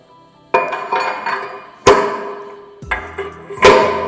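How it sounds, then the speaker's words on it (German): Three sharp metallic hammer strikes on a tube, driving a bearing race onto a Vespa steering column, ring out at intervals, each followed by a short ringing decay, with no talking. "dann mit dem Hammer das Lager aufbringen"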